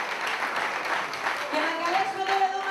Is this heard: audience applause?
yes